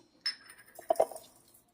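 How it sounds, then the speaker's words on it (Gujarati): Roasted chana dal dropped into a container during home cooking: a sharp rattle of small dry pieces landing, then a short cluster of bright clinks against the vessel, close and brief, with quiet between. "તો આ દાળિયાની દાળ નાખશું"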